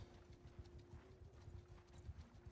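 Horse hooves clip-clop steadily in Mount & Blade II: Bannerlord, a medieval combat game, with a quick, even rhythm of many close, moderately loud hoofbeats heard on their own without speech.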